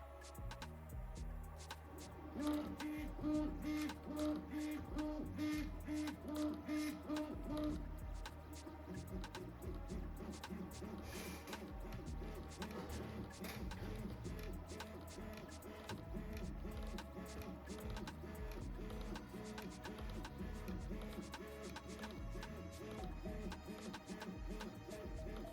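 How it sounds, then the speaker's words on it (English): A home-built DIY 3D printer runs its first print, its stepper motors whirring and buzzing in a steady, repetitive pattern of tonal movements that continues throughout at moderate volume. "finally, the printer is complete. This is the very first print on it."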